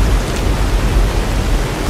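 Heavy rainstorm with thunder in the game Fallout: New Vegas: a loud, constant wash of rain with a deep rumbling low end rolling beneath it, and no talk.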